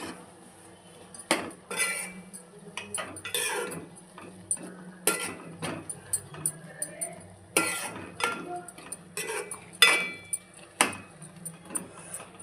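A utensil stirs egg Maggi noodles in a pan, giving irregular metallic clinks and scrapes close by, with short bursts of clatter over a soft background.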